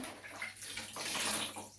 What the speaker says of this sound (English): I'll be mixing the water.